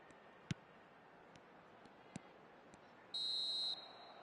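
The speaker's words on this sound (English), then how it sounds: "Referee's had a look, and he's blown his whistle for half-time." A referee's whistle blowing for half-time in the eFootball 2025 football game, a single bright sustained blast lasting about half a second, heard over a quiet stadium background with a few faint clicks before it.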